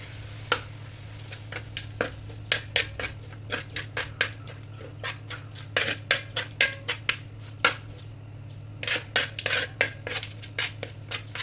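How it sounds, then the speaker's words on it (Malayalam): A biryani mixture with yogurt stirred in a pot, with frequent clinking spoon strikes against the metal rim in irregular bursts over a low steady hum, close and clear, no speech. "ഇനി നമുക്കിത് നന്നായിട്ടൊന്ന് ഇളക്കി കൊടുക്കാം കേട്ടോ."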